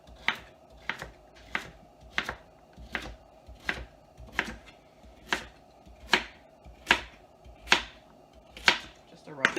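Knife rough-chopping carrots on a cutting board, about a dozen crisp, evenly spaced thuds close up, steady in rhythm, with faint background sound between strokes.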